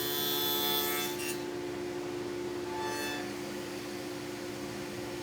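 A router on a router table cuts a dado in a wooden workpiece pushed against an auxiliary fence, giving a steady, fairly quiet machine whine with a brief rasping cut near the start.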